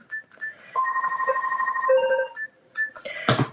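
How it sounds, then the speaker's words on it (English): A mobile phone ringtone plays close and clear, a sustained electronic melody of steady tones that stops, then returns briefly, with no talking. "My phone was ringing."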